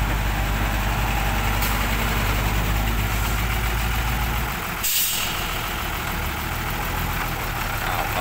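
Six-wheel truck waiting on a road beside a pond excavation, its diesel engine idling loudly and steadily with a sharp air-brake hiss partway through.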